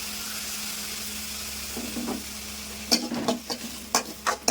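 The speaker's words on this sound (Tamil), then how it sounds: "பூண்டை போட்டு ரெண்டு வதக்கி வதக்கிட்டு தக்காளியும் போடுறேன்" Garlic and tomato sauté in a hot pan for a mushroom curry, giving a steady sizzle, then several close scraping stirs of a spatula against the pan in quick succession.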